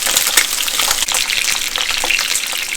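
Pork belly sizzles as it browns in a pan for Dongpo pork, a steady, close crackling hiss with bright popping spatters that runs for about three seconds with no talk.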